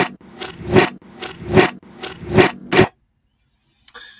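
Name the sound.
door opening sound played in reverse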